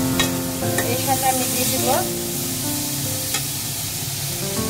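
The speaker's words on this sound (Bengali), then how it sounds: "সেই জন্য আমি ঘিটা দিয়ে এটাকে একটু ভেজে নিব।" A chickpea halwa mixture frying in ghee in a pan, with a soft sizzle and stirring scrapes running steadily under a woman's nearby speech.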